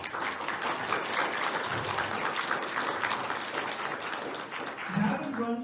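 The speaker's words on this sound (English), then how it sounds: "A round of applause for you." An audience at a fundraiser at the Westfields Marriott applauds, a steady dense wash of clapping at moderate distance that holds throughout and fades slightly near the end.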